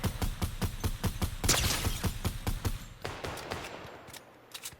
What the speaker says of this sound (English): Oh wow, he shot back at me.